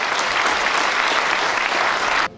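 Applause for women candidates at a Romanian parliamentary campaign launch event in Suceava, a steady dense burst of many hands clapping in a hall, loud and continuous before cutting off abruptly.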